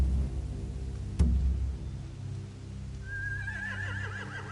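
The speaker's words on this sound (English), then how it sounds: "They have horses." A horse in The Walking Dead video game gives a loud, wavering neigh over a low ambient rumble after a sharp knock, its whinny trailing off near the end.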